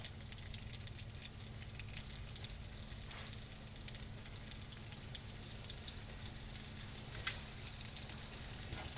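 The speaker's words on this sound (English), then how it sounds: "I'm going to brown these on both sides" Freeze-dried pork chops browning in a pan give a steady, close sizzle and crackle of frying, even and continuous throughout with occasional brighter pops.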